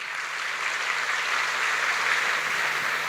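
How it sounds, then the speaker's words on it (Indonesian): An audience at a live talk gives a short burst of applause, a steady wash of clapping held at moderate volume for a few seconds without any speech over it. "Kasih tepuk tangan."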